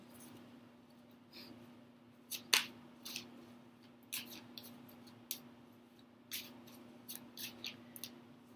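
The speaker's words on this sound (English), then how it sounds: "Having trouble shuffling tonight." Tarot cards are shuffled by hand, making scattered soft riffles, flicks and taps in irregular bursts. The sound is quiet and close, over a faint steady hum, with no talking.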